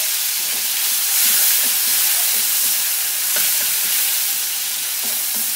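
Chopped tomato hits hot oil tempered with bay leaf, dried chili and whole cumin, giving a loud, steady, close hiss of frying with light stirring scrapes throughout.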